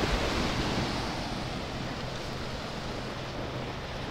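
Ocean surf on the Baler coast rolls as a continuous, fairly close wash of breaking waves, mixed with wind buffeting the microphone; no voices.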